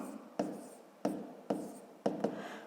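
A pen or marker writes out a maths equation in four distinct strokes, each a sharp scratch that trails off, spaced unevenly and heard close with no talk.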